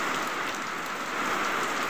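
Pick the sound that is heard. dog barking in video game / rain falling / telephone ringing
rain falling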